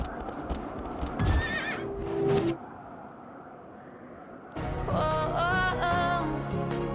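A horse in the video game Shadow of the Colossus whinnies twice with hoof clip-clops, then goes quiet before a louder, longer neigh near the end.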